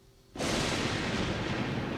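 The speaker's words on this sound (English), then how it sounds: "when the thunder booms, we stop." After a brief quiet moment, a sudden deep boom of thunder erupts and rolls on as a sustained loud rumble.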